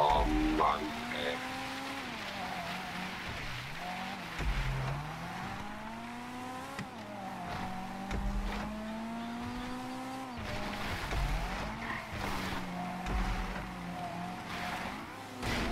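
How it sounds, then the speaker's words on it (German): A car in GTA Online driving over rocks, its engine revving up and down in repeated surges with rumbling bumps and tire noise, while people talk over it. "Guck mal, wie der über den Felsen fährt."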